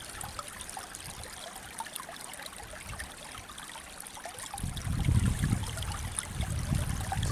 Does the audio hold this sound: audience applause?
no